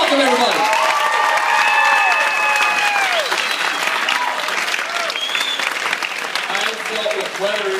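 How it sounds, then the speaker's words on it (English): A large audience breaks into loud, sustained applause with cheers and whistles, greeting a speaker introduced at a wedding reception. The clapping stays dense and steady throughout, with no talk over it. "please put your hands together and make some noise for Daniel Fisher"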